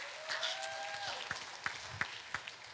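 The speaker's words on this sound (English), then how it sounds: "Come on, you guys got to clap for that." A handful of scattered individual claps from a small crowd at a Wai'anae community meeting in Hawaii, sparse and uneven, following a brief whistling tone at the start.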